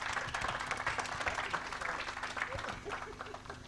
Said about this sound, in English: A round of applause for the entire team.